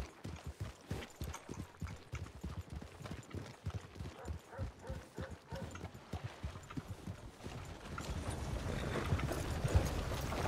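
A horse's hooves clip-clop in the video game RedM, a steady rhythmic trot of close, fairly loud hoofbeats that grows into a busier gallop near the end.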